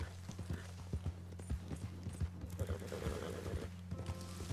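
Horse hooves clip-clop at a steady trot in the Red Dead Online video game, rhythmic thuds up close with a soft whinny and faint background noise, no voices over them.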